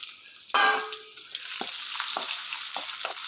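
Onions sautéing with spices in hot oil for a chapati paneer gravy, starting with a loud burst of sizzle as they hit the pan, then a steady frying hiss broken by several soft stirring scrapes.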